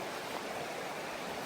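A river flows steadily beside a snowy trail, giving a continuous broadband rush of moving water with no breaks and no talk.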